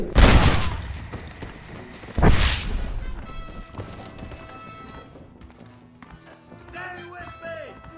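Gunfire in the Red Dead Redemption video game: two sharp, loud broadband shots about two seconds apart near the start, followed by a quieter layer of game music and ambient sound.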